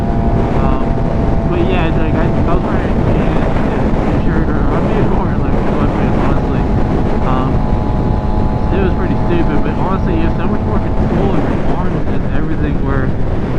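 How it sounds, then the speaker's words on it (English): Wind roars and buffets a rider on a moving Suzuki GSX-R 600 motorcycle, a loud constant rush with the engine droning beneath it that lasts the whole time with no letup. "I'm getting blown around right now with the wind."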